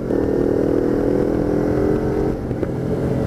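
A Kawasaki Ninja 250 R motorcycle fitted with an SC Project exhaust revs loudly and close by, a dense, sustained engine roar that holds steady and eases slightly near the end.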